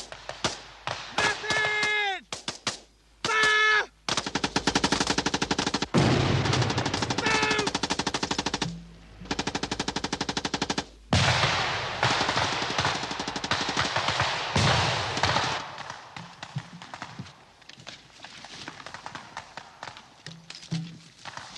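Machine-gun and rifle fire during forest combat training as a section withdraws under fire, with loud rapid bursts and single shots broken by short pauses, then fading into a voice speaking over quieter sounds.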